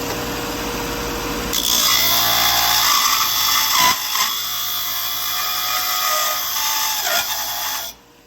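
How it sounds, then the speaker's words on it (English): Belt sander grinding metal parts for a Weber 22-inch kettle ash catcher modification, loud and close, a steady abrasive whine with a few brief dips as pieces are pressed and lifted before the motor cuts off. "So I'm just going to take them on the belt sander here"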